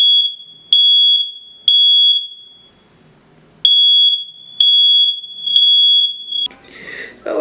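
A home smoke detector, set off by hair tips being burned with a lighter, shrieks in loud piercing beeps, sounding in repeated bursts with brief pauses, followed by rustling handling noise.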